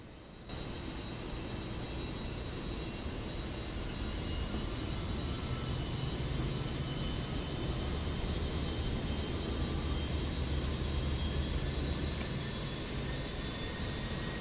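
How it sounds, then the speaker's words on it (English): Auxiliary power unit of a Fenix A320 airliner in Microsoft Flight Simulator 2024 spooling up, a steady loud whine with a high tone slowly rising over a constant low roar, running alone without any talk. "APU is spooling up."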